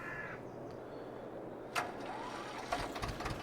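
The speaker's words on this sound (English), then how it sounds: "Fire up the trusty old tractor." An old tractor engine in Farming Simulator 22 cranks and catches on the first try. It is quiet, with a brief crank followed by a low rumbling idle building beneath a faint crow-like call heard earlier.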